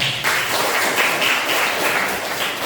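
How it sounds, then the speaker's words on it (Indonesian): Group of students applauding together in a classroom during a Hindu religion and character education lesson, steady dense clapping sustained for a couple of seconds, fairly loud and close, without talk over it. "kasih tepuk tangan teman-teman"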